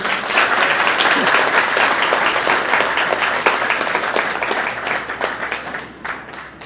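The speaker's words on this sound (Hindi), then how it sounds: "फिर एक बार जोरदार तालियां तो हो जाए" Loud, close audience applause rolls through a hall at a talk event, dense and energetic at first. It tapers toward the end with a few scattered claps.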